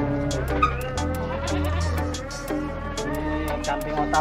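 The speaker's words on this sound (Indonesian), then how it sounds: "Kambing Ottawa ini." Etawa goats bleat over and over at close range on a livestock farm in Tanjung Manis village, Anyer, Banten. The loud, wavering calls overlap one another, punctuated by sharp knocking clicks from the pen.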